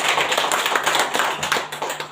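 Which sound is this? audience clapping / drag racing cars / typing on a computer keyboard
audience clapping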